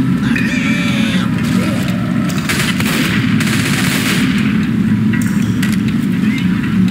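Gunfire in the zombie shooter Left 4 Dead 2, a loud, continuous barrage of rapid shots layered over heavy game noise and rumble, with voices talking now and then through the chaos.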